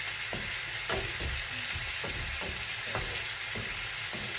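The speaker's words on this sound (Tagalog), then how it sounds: "Halu-haluin lang po natin siya guys hanggang maluto po." Vegetables sizzle in a pan while being stirred, a steady close frying hiss broken by regular scraping strokes of the spatula about every half second.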